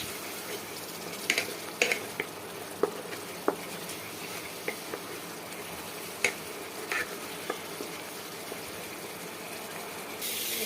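Salt, dried chili powder and turmeric being stir-fried in oil in a pan for chicken kofta curry, a low steady sizzle with occasional scraping and clinks of the spoon against the pan, no talking.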